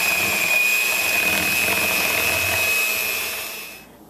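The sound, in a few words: electric mixer running while mixing broiled bananas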